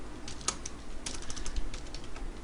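Java code is typed on a computer keyboard in soft, scattered bursts of key clicks, close but fairly quiet over faint room noise, with no talk.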